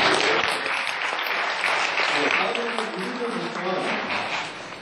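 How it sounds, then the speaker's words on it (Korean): Audience at an election ballot-watch gathering breaks into sustained, dense applause, loud and steady throughout before slowly tapering. "그분들한테 모두 박수 한번 드려주십시오"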